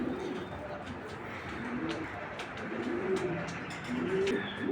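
Racing pigeons coo repeatedly, soft rounded low calls rising and falling at a moderate pace over a faint background of rustling, fairly close and alone.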